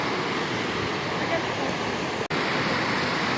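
Mountain river water on the Sokuluk in Kyrgyzstan rushes in a steady, dense roar that fills the whole stretch, broken once by a very brief dropout.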